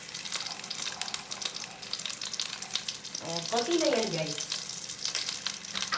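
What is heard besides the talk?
hot water added to sizzling pan, simmering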